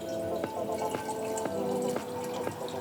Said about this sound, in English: What we need first is going to be our water, of course. So we're going to add this into the vessel itself.